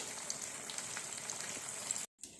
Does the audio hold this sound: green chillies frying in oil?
yes